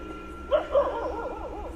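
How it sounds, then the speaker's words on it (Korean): Dogs at night yip and whimper in a short rising burst, followed by a wavering, whining call. The sound is moderately close, with a steady background hum and no talk. "야간 경비원은 개들이 무언가를 보고 끊임없이 짖는 장면을 포착했습니다."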